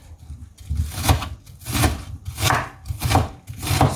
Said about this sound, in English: It's the easiest way to cut onions